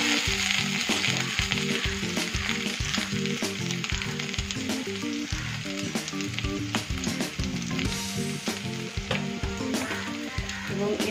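Ginger pieces and spices frying in a pan over medium heat, a steady close sizzle with rhythmic scraping stirs and light clinks of the utensil.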